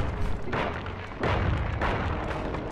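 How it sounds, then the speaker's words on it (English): Booming blasts from bombs detonating on a bridge in the video game Sly 2, several loud rumbling bursts rolling one after another with no speech. "We just need to have enough bombs on all the sides of the bridge to make most efficient explosion out of this."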